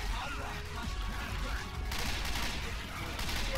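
Dense, continuous gunfire from a Left 4 Dead 2 session with a Silent Hill mod, a loud rattling stream of rapid shots and impacts filling the whole moment without pause.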